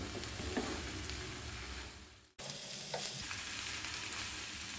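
Raw jackfruit frying with garam masala in a pan, a steady close sizzle with faint stirring scrapes, briefly cutting out to silence midway before resuming just as dense.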